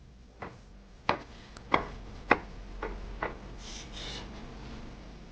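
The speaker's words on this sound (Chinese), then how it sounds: "再准备一个桃子，切成小块" A kitchen knife chops a peach into small pieces on a board: about six sharp, irregular knocks over a low hum, with no voices.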